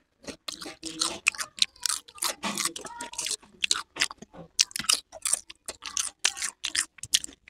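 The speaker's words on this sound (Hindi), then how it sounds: "भटूरे की लास्ट बाइट" Close, crunchy chewing and biting of a fried bhatura bread, a rapid run of distinct bites and chews in a quiet room with short gaps between them.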